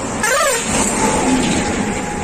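Highway traffic rushes past in a loud, continuous roar, with one vehicle whooshing by close at the start and engine noise carrying on steadily.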